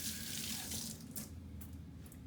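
Tap water running over a dental impression being rinsed, a steady splashing stream with faint clinks, quiet and close, with no voices.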